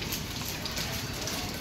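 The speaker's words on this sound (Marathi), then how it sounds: "असो पाऊस पडू दे बाबा." Steady rain falling in Mumbai, a dense even hiss of drops hitting surfaces close by, continuous for the whole short stretch.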